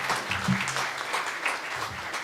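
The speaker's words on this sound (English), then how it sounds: "May I request everyone to join me in giving him a warm round of applause" A seated audience at a school of architecture induction day claps to welcome the chief guest, an architect, with steady, dense applause of moderate loudness lasting the whole stretch, with a faint voice murmuring beneath.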